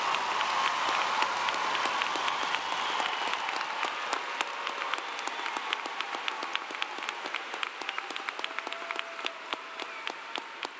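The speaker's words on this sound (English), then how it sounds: "How about another loud round of applause for our newest bachelor's degree recipients?" University commencement crowd applauding new bachelor's degree recipients, a sustained patter of many hands clapping in a large hall, fairly distant and steady, thinning slightly toward the end.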